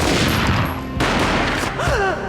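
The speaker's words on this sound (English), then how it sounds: "A gunshot boomed and she fell down in slow motion" A single loud gunshot booms in the Max Payne video game, opening with a sharp broadband crack and then a decaying roar. A second burst lands about a second later, and a dramatic swooping tone rises near the end.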